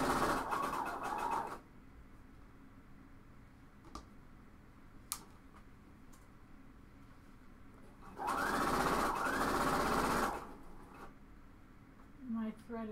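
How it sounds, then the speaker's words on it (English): A home sewing machine stitches a garment seam in two short, close bursts of whirring separated by quiet, with faint ticks and small handling sounds in between. "I'm going to go ahead and just sew it"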